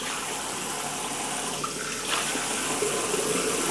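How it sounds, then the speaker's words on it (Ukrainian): A household water tap opened fully on a system fed by a well pump with a frequency drive, water gushing steadily into a sink, close and continuous with a slight surge in flow midway. "Відкриваємо кран. Я відкрив на максимум"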